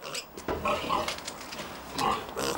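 A pig grunts and snorts several times in short, irregular bursts, close by in a London studio, with no talking.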